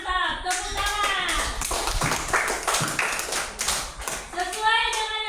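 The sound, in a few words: audience clapping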